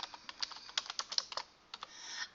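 A material name being typed on a computer keyboard, a close run of quick, light key clicks that pauses briefly before a few more taps.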